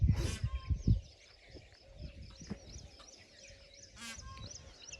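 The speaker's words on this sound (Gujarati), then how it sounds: "આ બાજુ મોર બોલે હેરા" Loud honking peacock calls ring out at the start and again near the end, with scattered rustling and faint background noise between them, in a Gujarat village.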